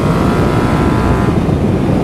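A Yamaha MT-07 (2018) motorcycle engine held in second gear at about 60 km/h and 5,500 rpm, a steady loud droning hum with constant pitch and wind rush, no voices heard.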